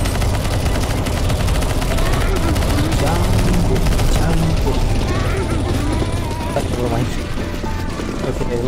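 Dense, continuous gunfire from a CS:GO zombie-escape map as players shoot at a boss, loud and relentless bursts layered with game effects, with voices talking over the shooting.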